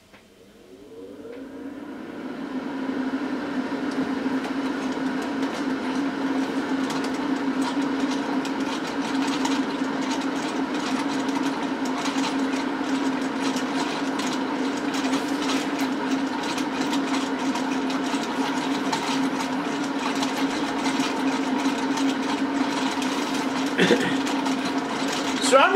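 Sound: electric fan blowing on a small wind turbine

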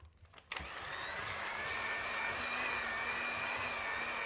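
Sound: mixer beating cream cheese and butter together

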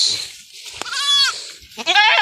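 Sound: goat bleating

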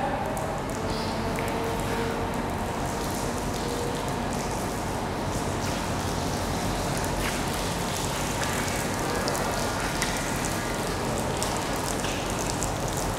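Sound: rain falling on LED panel

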